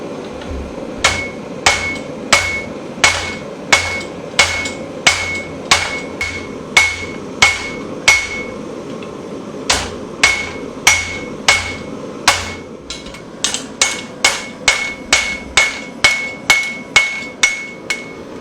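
Steel being hammered flat into bar stock while forging a hunting knife, with loud, evenly paced ringing blows, about two per second, that speed up briefly toward the end, with no voices.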